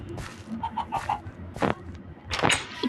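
Chickens in the Minecraft video game give several short, quick clucks, some faint and some louder, with other game sounds in between.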